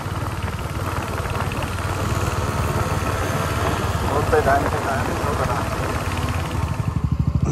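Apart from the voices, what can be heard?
scooter engine accelerating away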